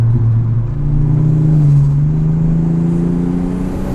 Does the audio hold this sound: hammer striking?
no